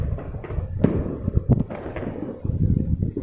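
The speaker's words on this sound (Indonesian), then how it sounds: "banyak sekali bunyi petasannya. Kembang api." Firecrackers and fireworks on New Year's Eve in Bandung, a scatter of distant pops, cracks and thuds at irregular intervals over a rumbling outdoor background, with one sharper nearby bang.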